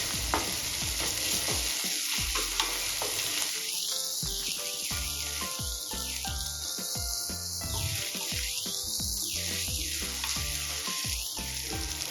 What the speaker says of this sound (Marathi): अद्रक लसूण पेस्ट ॲड करून घेऊया आता एकदा हलवून घ्यायचं